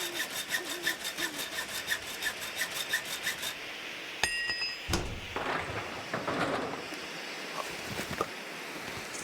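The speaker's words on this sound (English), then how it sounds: "I need to check my hacksaw, what state is it" A hacksaw cuts in quick, rhythmic back-and-forth strokes for a few seconds, followed by clunks, scrapes and rustling handling noises.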